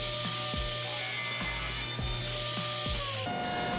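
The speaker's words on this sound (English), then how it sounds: "Here I'm just cutting the rails to final length using my table saw sled." A table saw with a crosscut sled trims wooden door rails to final length, giving a steady motor whine with several rasping bursts as the blade bites through the wood, close and moderately loud.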